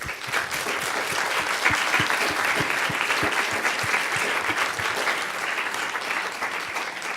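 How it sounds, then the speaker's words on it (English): A room full of people gives a sustained round of applause for students at a program's final remarks and award ceremony, dense and steady throughout with no talking. "I want everybody to give a big round of applause to wonderful students"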